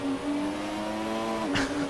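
Engine of a 1991 McLaren F1 car in the racing game F1 2017, a steady high-pitched whine holding nearly constant through the clip, with a brief burst of noise near the end.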